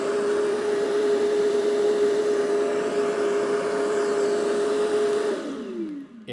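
Airthereal T1 touchless automatic dustpan vacuum sucking, a loud, steady whooshing suction with a high motor whine that holds evenly, then winds down at the end.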